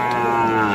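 Cattle low at the Ambari haat cattle market among young bulls and heifer calves, one sustained, loud, nearby moo filling the whole moment.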